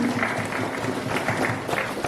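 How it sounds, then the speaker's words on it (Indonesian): Congregation applauding in worship at the opening session of a Kingmi church synod working meeting in Papua, a steady dense wash of clapping with some crowd noise throughout. "mari kita berikan tepuk tangan yang terbaik untuk Tuhan kita."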